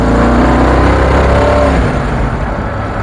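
A Dodge Coupé 6.6-litre hot rod accelerates hard, its loud engine roar rising close by at first and then easing off as it pulls away, with no voices.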